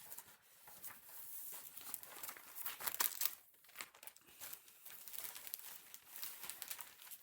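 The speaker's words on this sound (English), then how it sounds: "Excuse the rustling." Soft crinkling and rustling of handled cross-stitch materials and pattern packets, irregular bursts of crumpling close by with brief louder moments, no talking.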